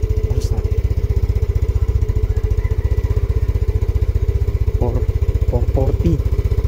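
A motorcycle engine runs steadily at close range with an even low throbbing pulse the whole time, and brief voices break in over it near the end.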